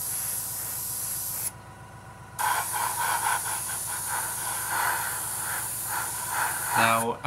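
Paint sprays onto a Revell 1/72 Halifax Mk.III model kit in a steady, close hiss that stops briefly and then resumes. The hiss continues for several seconds, and a voice is heard near the end.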